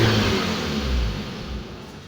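A Lada Kalina with an erratic high idle and a stalling fault runs with a rough, uneven engine rumble that gradually weakens and sags as the car begins to stall, heard close with no talking.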